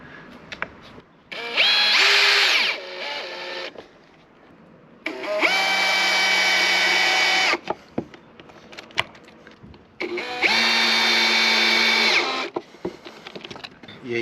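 A power drill drives pocket screws into wood while building a camper interior, with three long whining bursts of about two seconds each, separated by quieter pauses filled with faint handling sounds, loud and close.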